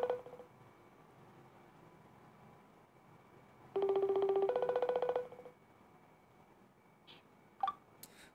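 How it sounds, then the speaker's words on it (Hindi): A phone call being dialed, with a low steady tone, then a louder burst of dialing and ringback tones for a couple of seconds, followed by a few faint clicks near the end, with no talk. "चलिए कॉल लगाते हैं भाई"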